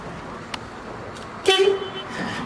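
An old car horn toots once, a short, loud, buzzy blast in the middle, with a faint click before it and quiet background noise around it.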